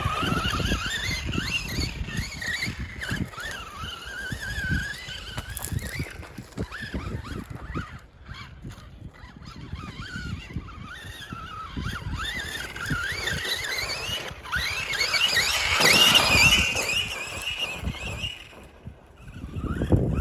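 A Losi Lasernut RC truck driving over rough terrain, its electric motor whining up and down at varying throttle with gritty tire and wind noise, fairly close and continuous, building to a louder burst near the end.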